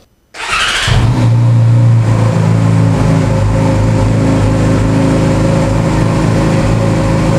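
A Yamaha R6 motorcycle with an aftermarket exhaust roars to life and holds a loud, steady, rumbling rev close by, with no voices.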